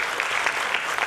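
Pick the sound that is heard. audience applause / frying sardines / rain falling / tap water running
audience applause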